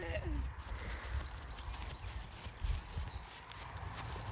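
Horse in a plain Cavison bridle being ridden out alone on a hack, hooves drumming in a steady canter rhythm close by, mixed with wind and low rumble from the ride.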